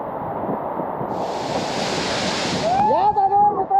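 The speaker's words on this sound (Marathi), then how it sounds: "त्या वॉटरफॉलचा फ्लो आणि त्याचे छिटे आहे ते असे आपल्या तोंडावर इथपर्यंत उडत आहे" Khandi Waterfall in the Sahyadri hills during the monsoon roars as a loud, steady rush of falling water and spray, heard close up. A voice joins near the end.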